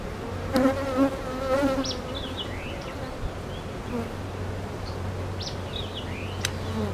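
Honeybees buzzing around an open hive during a routine inspection, a dense steady drone with individual bees zipping past close by, occasional brief clicks.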